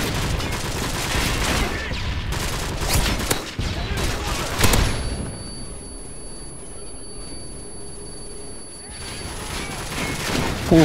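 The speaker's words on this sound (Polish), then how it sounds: "ale mnie trafił granatem" Rapid bursts of video game gunfire give way to a sharp grenade blast, then a quieter stretch of rumbling game ambience before the shooting resumes near the end.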